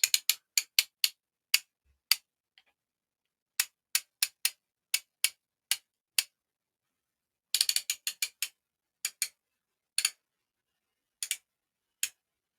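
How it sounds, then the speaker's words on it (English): A security lever on a protogen suit is set back in place, giving crisp, quiet ratcheting clicks in separate taps and quick clusters against near silence. "Put the security lever back in place."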